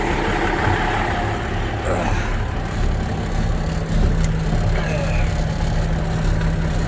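A Peterbilt 379 truck's diesel engine runs at a steady idle close by, a loud, low, throbbing rumble with a constant hum.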